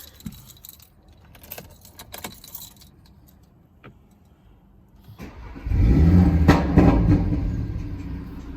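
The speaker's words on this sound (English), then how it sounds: "Let's start her up and then you can hear how she sounds and I'll give a couple revs for you" Keys jingle briefly, then after a quiet pause a 2018 Audi RS3 cranks and fires into a loud, sustained engine roar that holds with revving through the rest of the clip, with no talking.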